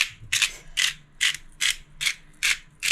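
Pepper ground in a hand-turned pepper grinder in a home kitchen: seven evenly spaced bursts of crisp ratcheting, close and alone, each lasting a fraction of a second.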